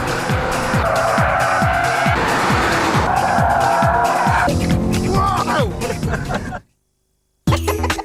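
A family car driven hard around the Silverstone circuit: loud, continuous engine revving with repeated gear-change drops and tyre noise, close and dominant, cutting to silence briefly near the end before resuming.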